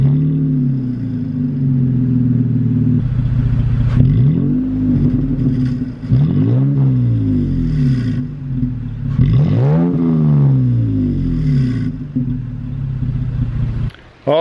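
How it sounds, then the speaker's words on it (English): A Toyota Tacoma pickup on a warm startup shows off its drony exhaust: a steady low idle broken by several rising revs that swell and fall back, loud and close, with no talking. "Truck should be fairly warmed up now, and it is. So I'll do another startup."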